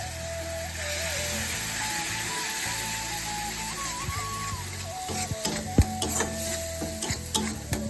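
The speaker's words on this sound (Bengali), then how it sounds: "তেজপাতা, গোটা গরম মশলা আর রসুনটা এখন ভালো করে ভেজে দিচ্ছে" Bay leaves, whole garam masala and garlic frying in oil for prawn malai curry; a continuous, fairly loud sizzle over a tonal background hum, with clattering stirring knocks toward the end.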